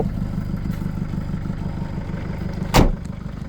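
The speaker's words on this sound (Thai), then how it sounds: "นี่นะครับเครื่องยนต์ดีเซล" A 2003 Mercedes-Benz Vito 112 CDI turbo diesel van engine idles with a steady low rumble and clatter, broken near the end by one short loud knock or bang.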